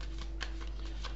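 Osho tarot cards are shuffled by hand in short papery bursts, several quick riffles over a steady low electrical hum, close and fairly quiet.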